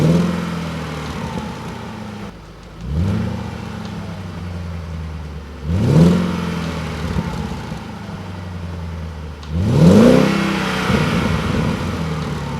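A C5 Audi RS6 Avant twin-turbo V8 revs hard three times, each blip climbing sharply in pitch and falling back to a burbling idle, loud and close.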